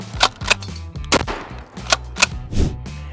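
A rapid series of about six sharp, loud shotgun blasts, each a sudden booming crack with a short ringing tail, fired in an uneven rhythm close by with no talking.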